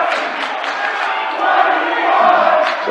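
Student crowd at a Mead at Fort Morgan boys basketball game roars continuously with loud, dense chanting and shouting that swells slightly toward the end, with no single voice standing out.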